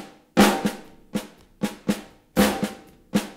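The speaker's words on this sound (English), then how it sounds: "So if we play that rhythm in that way on the snare drum, it's going to look and sound like this." Snare drum playing the King Kong groove rhythm, sharp close strikes spaced in a repeating pattern with louder accented hits, played alone without talking.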